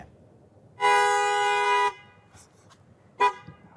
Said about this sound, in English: The bears inside honking the horn in the front seat.